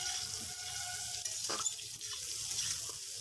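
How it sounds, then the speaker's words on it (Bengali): Pieces of pointed gourd fry in a pan after potatoes, giving a soft, close sizzle with light stirring scrapes. "পটলটা একটু ভেজে নেব।"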